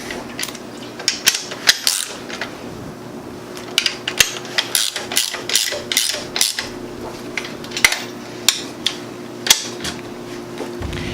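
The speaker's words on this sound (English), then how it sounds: "Then get your 3/4 inch socket and just tighten that guy up." Ratchet with a 3/4 inch socket tightening a fairing mounting bolt on a Harley-Davidson Dyna, a close series of sharp clicking strokes in uneven rhythm with small metallic knocks between them.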